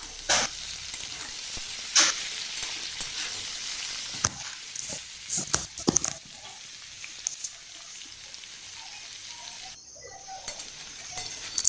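Taro stolons and potatoes fry together in a pan, with a faint steady sizzle broken by sharp clinks and scrapes of a spatula, irregular and close, louder bursts around the middle.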